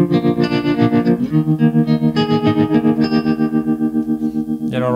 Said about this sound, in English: you can even get some really old school tremolo type effects out of this